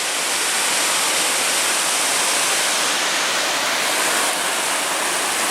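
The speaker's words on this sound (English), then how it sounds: "There's the waterfall." A waterfall on a southeast Wisconsin steelhead tributary pours over rock steps, giving a steady, loud, unbroken roar of rushing water with no break and no voices.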